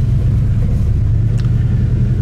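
Prototype 1949 Cadillac Coupe DeVille driving, a steady low engine rumble and road drone heard from inside the car, continuous and fairly loud with no talk.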